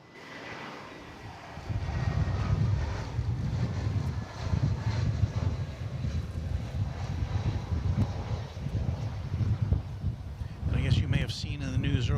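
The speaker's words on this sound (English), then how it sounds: "another flight from Los Angeles. This one, Spirit Airlines Flight 868," A Spirit Airlines Airbus A320 on its flight from Los Angeles roars steadily at DFW Airport, a loud continuous jet-engine rumble with wind buffeting the microphone, while a person talks over it.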